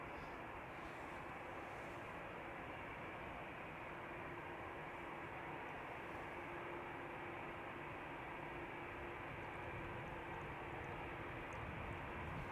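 An airliner taxiing at Schiphol Airport gives a constant, dense engine rumble and hiss with a steady low tone, unbroken and fairly close.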